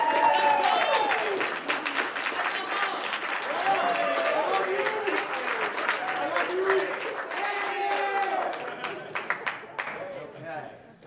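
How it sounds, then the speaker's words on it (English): A crowd at a military commissioning ceremony gives a standing ovation to parents and families, dense clapping with cheers and shouting voices mixed in, fading toward the end. "let's give your parents and families a standing applause"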